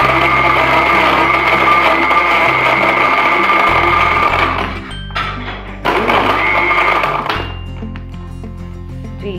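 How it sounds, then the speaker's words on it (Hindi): A blender whirs loudly and steadily, blending a mint margarita drink of mint, ice and soda; the motor note drops and briefly pauses before the blending resumes, with no talk over it. "अब हम इसको ब्लेंड करेंगे अच्छे तरीके से"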